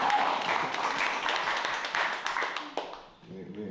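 An audience at a political organizing talk gives a dense round of applause that gradually thins out, and a voice speaks as it fades.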